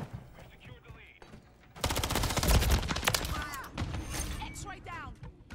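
Rival 9 submachine gun fired in Call of Duty MW3, a quiet lead-in giving way to loud rapid automatic bursts from about two seconds on, with clicks and game effects between volleys.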